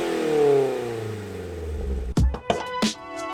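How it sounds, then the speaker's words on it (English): Mazda NC Miata exhaust with a SuperQ muffler and a tune: a loud revving engine note drops away on a shift, then several sharp pops and crackles burst out between shifts. "The sound is pretty fantastic. It has lots of pops in between shifts."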